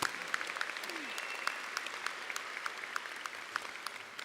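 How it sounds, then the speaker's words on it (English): A large audience applauds at a Daytona State College commencement ceremony, a steady, distant-sounding wash of many hands clapping with sharper individual claps popping out, lasting throughout. "Give them a round of applause"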